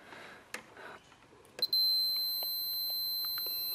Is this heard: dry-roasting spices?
no